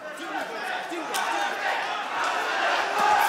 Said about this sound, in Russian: Слышим, как поддерживает зал Наримана.